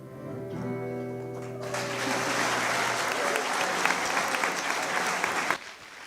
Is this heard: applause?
yes